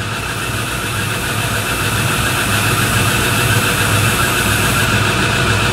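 A metal lathe running steadily while turning a shaft, a loud continuous mechanical hum and hiss holding the same level throughout, with no talking.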